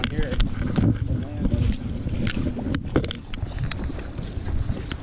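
Gusty wind buffets the microphone on a late November trout-fishing outing, rumbling in uneven bursts with faint clicks and water sounds, while a person talks quietly underneath.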